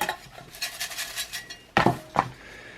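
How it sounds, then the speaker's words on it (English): A drink mix shaken hard in a closed shaker, giving a steady run of faint rattling and sloshing, then two loud, sharp clunks near the end. "Go ahead and do a vicious shake till we get a good mix."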